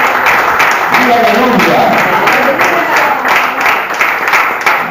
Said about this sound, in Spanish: Aplauda fuerte al Señor, aplauda fuerte a Cristo